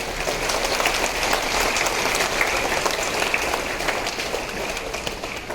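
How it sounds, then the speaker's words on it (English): Students and staff at a school morning assembly give a sustained round of applause for a class and its teacher, a steady wash of many hands clapping without a break. "Let's give a huge round of applause to them, to the class teacher and to the students"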